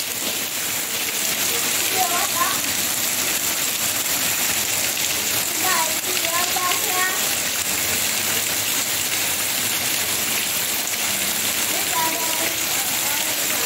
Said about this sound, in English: Thank God for the rain.